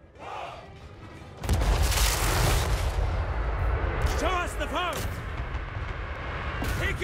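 Artillery fire in a Total War Warhammer 3 battle against greenskins: a loud, sustained barrage of booming blasts starts a moment in and continues over a noisy battlefield, with shouting voices mixed in.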